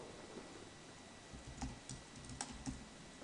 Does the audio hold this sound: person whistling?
no